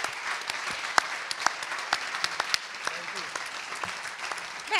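An audience at a concert applauds the performers, with steady dense clapping and a few sharper claps standing out, fairly close.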